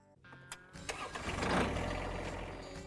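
Engine of a John Deere tractor cranking and catching, then rumbling into a rough, steady idle, fairly faint with no voices over it.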